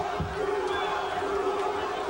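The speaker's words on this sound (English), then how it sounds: "Crowd yelling Tua." Boxing crowd at a WBC International 12-round title fight chanting and yelling for fighter David Tua between rounds, a dense, steady roar of many voices.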